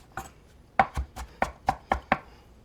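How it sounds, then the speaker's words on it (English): Rough chopping of garlic, ginger and green onions with a kitchen knife on a board: seven sharp, close knocks in an uneven rhythm, each chop clear and separate with near silence between. "Okay, I'm gonna do just a little rough chop."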